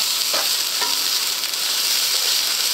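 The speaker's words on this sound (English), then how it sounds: "sprinkle in the pot of the JD spices and give that a good stir" Taco beef with spices frying in a pan, a steady close hiss of sizzling with a couple of faint scraping stirs near the start.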